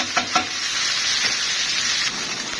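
Vegetables such as peppers and onions hit a hot frying pan for cashew chicken, giving a loud, continuous hiss of sizzling oil with a couple of soft stirring knocks near the start.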